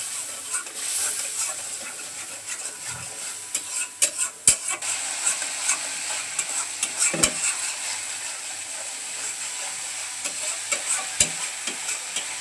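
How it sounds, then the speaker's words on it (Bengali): Spice masala of turmeric, chili and coriander powder with a little water fries in a pan while being stirred, a close sizzle broken by irregular scraping strokes and a few sharp utensil knocks against the pan. "মশলাটাকে ভালোভাবে কষিয়ে নেব।"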